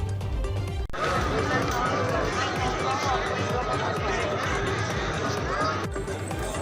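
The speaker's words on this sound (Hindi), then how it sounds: "आज सावन का आखिरी सोमवार और इस मौके पर मंदिरों में शिव भक्तों की भारी भीड़ उमड़ी" A large crowd of Shiva devotees packs temples on the last Monday of Sawan, with steady dense babble and chanting voices filling the scene throughout.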